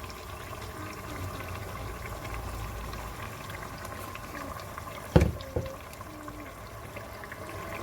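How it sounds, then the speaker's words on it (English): Blended fresh tomatoes go into a hot pot of frying stockfish jollof base, producing a bubbling, sizzling liquid wash, with a couple of sharp knocks from a spoon or lid near the end. "So I'm adding the blended tomatoes."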